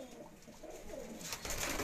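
Pigeons coo softly in soft repeated calls, heard at a moderate distance over an outdoor background, with a burst of rustling noise near the end.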